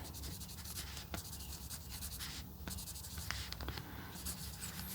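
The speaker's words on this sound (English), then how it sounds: "I could if I use a Sharpie. I want to write that I filmed this journal with me." A Sharpie marker scratches and rubs steadily across the paper of a creative smash journal, a continuous close scribbling sound with small pauses between words and no voice.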